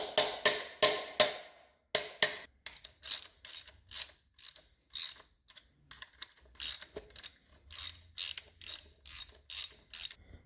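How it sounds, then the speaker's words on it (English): Torque wrench ratcheting down an engine bearing cap on a 1958 Pontiac Sedan Delivery camshaft job: close, sharp bursts of rapid clicking in repeated strokes with short pauses, and no talking. "I'm going to bolt the cap down and torque it down"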